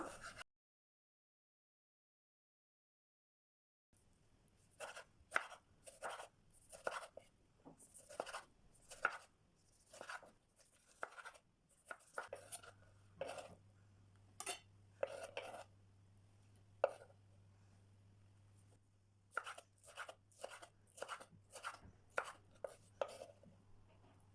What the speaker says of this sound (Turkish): Üzerine domates doğrayacağım.